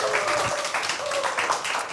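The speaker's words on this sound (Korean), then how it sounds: "우리 환영의 박수 하겠습니다" A congregation at a church youth service claps to welcome a newcomer: brief, scattered clapping from a small group with voices mixed in, lasting under two seconds.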